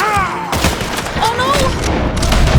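Gunfire in the Red Dead Redemption II video game, a few booming shots and thuds mixed with game sounds, while a player talks excitedly over the action.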